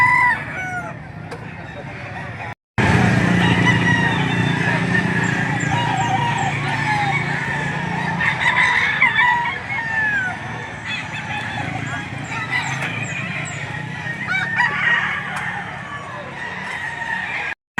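Roosters crow repeatedly over a dense backdrop of clucking chickens and other fowl at a busy poultry market in Lipa City, Batangas, with some voices in the mix.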